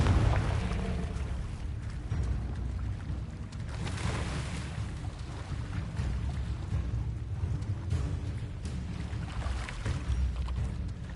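A Confringo blasting spell explodes in Hogwarts Legacy, a video game, with a dense low rumbling roar and crackle that stays loud and steady for the whole stretch with no speech.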